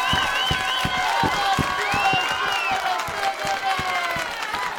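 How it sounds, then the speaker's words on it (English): An audience at a cocktail championship final applauds and cheers, with steady clapping and whoops from a crowd and voices mixed in. "give a little applause, not too much, just a little"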